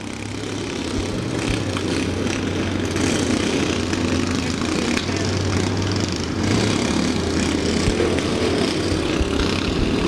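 Several lawn mower tractors at a demolition derby drone and rev together, a loud, continuous engine clatter with fluctuating throttle, no voices over it.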